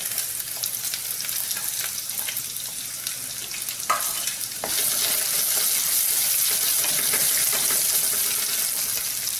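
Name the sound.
onion, ginger and garlic frying in a pan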